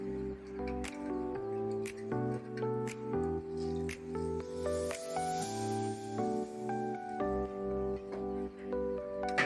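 Soaked bread being squeezed and kneaded by hand with spiced vegetable masala for cutlets, giving soft wet squishing and dripping sounds under steady background music.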